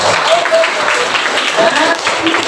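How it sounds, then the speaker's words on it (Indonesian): A classroom of students applauds classmates, a steady patter of clapping filling the room at moderate loudness with a few voices mixed in. "kasih tepuk tangan untuk kawan dan kawan"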